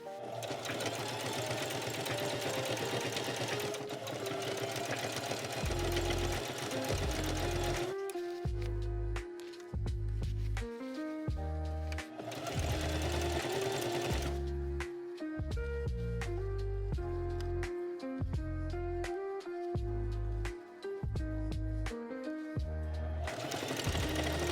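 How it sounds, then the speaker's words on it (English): A sewing machine stitches bias tape onto a vest neckline, with bursts of rapid rhythmic mechanical clatter alternating with short pauses and the hum of the motor, fairly close and alone without talk. "With right sides together, I pinned both edges and sewed along the first crease of the bias tape."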